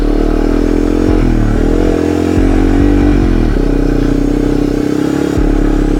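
A 2001 Yamaha TW200 trail motorcycle engine runs loud and close, a steady rumbling drone with small shifts in pitch as the revs rise and fall, no voices.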